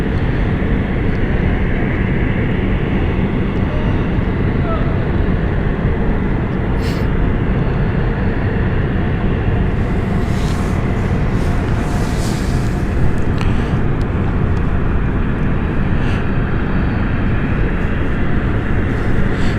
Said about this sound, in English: So we're going to have another Airbus A220 taking off here.